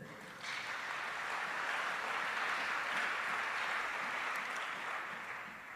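A church congregation applauds and cheers in a sustained wash of clapping that swells in after a brief start and holds steady for several seconds, broad and reverberant rather than close.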